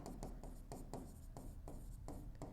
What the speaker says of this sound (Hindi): तो यहां लिखता हूं मैं मेथड्स ऑफ